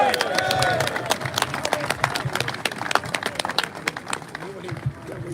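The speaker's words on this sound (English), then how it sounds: "Please give him a massive round of applause." Outdoor applause from a crowd at a protest in Braintree, Essex, with scattered sharp claps and some cheering over crowd babble, beginning under a voice and thinning into irregular claps toward the end.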